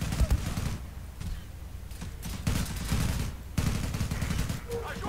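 Rapid automatic gunfire in the online shooter Zula, bursts of shots rattling near and loud in several volleys separated by short gaps, with a player talking briefly between them.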